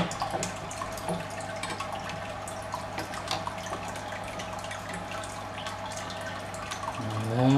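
Water being changed in a 54-litre aquarium breeding tank: soft trickling and dripping with light splashes close by, steady and fairly quiet, rising slightly in the last second.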